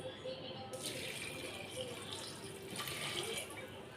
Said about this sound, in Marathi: पाणी टाकून घेऊया